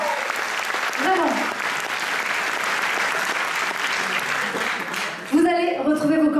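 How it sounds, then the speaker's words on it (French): Sustained audience applause for acrobats at the Miss Côte d'Or 2024 beauty pageant, steady and dense for about five seconds before a host's voice and music cut in near the end. "Les acrobatistes, oui, merci de les applaudir encore."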